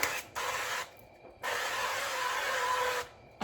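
Cooking spray hisses into a pan on a stovetop burner in a home kitchen, in two close bursts: a short spritz and then a longer, steady spray of about a second and a half.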